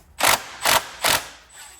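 Impact gun working on bolts of a Chrysler 300 intake manifold with its torque turned down: three short, even bursts of rattling hammering, close and moderately loud, with brief pauses between them.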